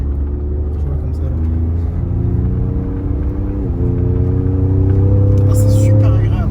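A Ford F-150 Raptor pickup truck drives off-road, its engine giving a steady low rumble with a slowly rising drone near the end, while someone talks over it.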